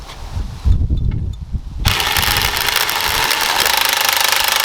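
A lift kit raises a GeoPro 12RK camper with loud mechanical grinding and rattling, first in a short burst, then a steady buzzing drone that carries on to the end.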